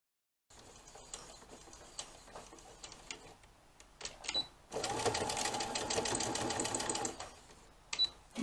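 A domestic sewing machine sews a seam over thick elastic on baby doll pyjamas, starting in short halting bursts of stitching, then running in a louder continuous whir before stopping with a few clicks.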